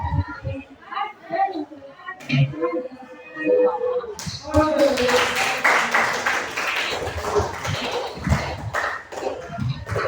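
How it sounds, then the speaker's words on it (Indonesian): A classroom audience breaks into applause, dense and lively clapping that follows a teacher's spoken prompt and continues steadily for several seconds, with voices mixed in. "Ya, aplaus dulu."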